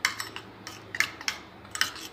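A spoon clinks repeatedly against a bowl while stirring a banana, curd, honey and lemon juice face pack, giving light, close metallic taps in a loose rhythm.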